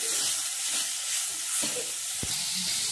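Grated coconut being stirred and toasted in a hot pan gives a dense, even sizzle, broken by a few soft scrapes of the spoon.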